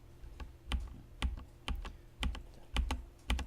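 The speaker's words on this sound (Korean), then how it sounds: "키보드 Shift 누른 상태에서 G를 누르시면 두 개가 왔다 갔다 합니다" Computer keyboard keys are pressed for a Photoshop shortcut, a series of crisp, close clicks arriving in small clusters about every half second, sharp against a quiet room with no speech.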